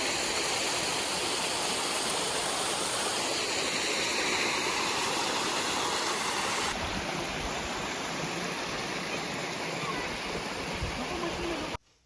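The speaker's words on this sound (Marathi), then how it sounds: "इकडं बी वाहतोय बघा धबधबा वरनं डोंगराकडून पाणी आले" A waterfall pouring down from the hills after heavy rain in Maharashtra roars steadily and loudly, a continuous rushing of water filling the whole clip before cutting off abruptly at the end.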